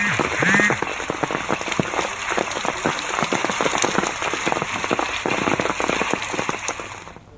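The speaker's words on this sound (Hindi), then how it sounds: "शाम को पौड़ी में भी बारिश के साथ ओले गिरे हैं।" Evening rain and hail pelt down in Pauri, Uttarakhand, a loud close patter of countless sharp hailstone clicks over a steady rain hiss, continuing without pause.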